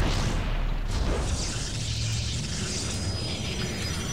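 Booming cannon fire in a real-time strategy game, a heavy blast with crashing, whooshing debris and mechanical clatter, loud and sustained in a busy battle mix.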